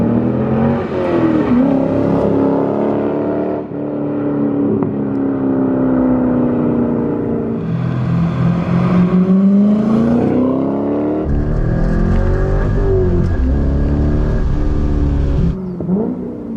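A C5 Corvette engine breathing through an X-pipe exhaust revs up and down in loud, sweeping bursts, then pulls hard under acceleration, close and alone without any talk.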